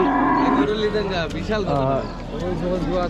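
A young Friesian cow moos with long, deep bellowing calls, close by, while people talk over it at a busy outdoor cattle market in Rajshahi.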